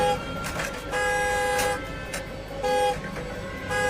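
A car horn honks in several short and longer blasts, steady and fairly close, over a low background of traffic.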